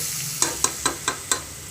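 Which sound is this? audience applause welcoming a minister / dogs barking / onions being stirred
onions being stirred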